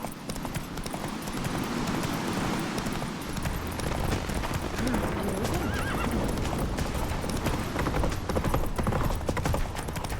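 Roach the horse galloping in The Witcher 3, fast rhythmic hoofbeats with loud whinnies layered over rushing game ambience, close and continuous.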